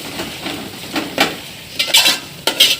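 Mutton with masala for Hyderabadi biryani is stirred in a pot with a spoon, scraping and clinking over a soft sizzle, close and fairly loud in irregular strokes.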